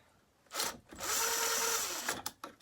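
An impact driver works on a chainsaw's points ignition, giving one short whir, then a sustained loud close whine of about a second that ends in a few quick rattling bursts.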